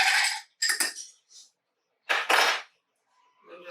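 Spoon clinking against a glass while stirring a virgin Bloody Mary with pickle juice, several short bright metallic taps in clusters with quiet gaps, close and clear.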